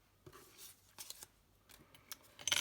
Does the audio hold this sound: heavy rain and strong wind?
no